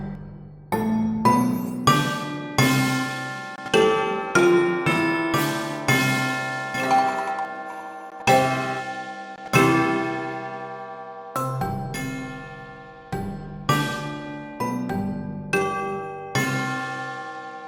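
Every sample in an orchestral percussion library sounds at the same time, a dense run of ringing metallic bell and chime hits, each decaying before the next, in an irregular, loud sequence.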